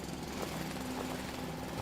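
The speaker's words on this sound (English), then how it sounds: "I love the way it's got a jackhammer sound." Rapid mechanical pounding like a jackhammer, from digging dirt in the video game Foundry, rattles steadily and fairly faintly for under two seconds, no talking.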